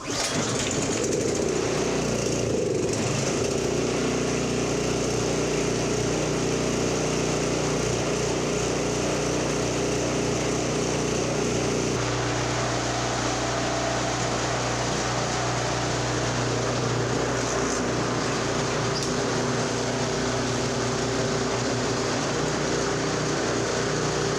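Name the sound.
Toro 721 snow thrower engine running lean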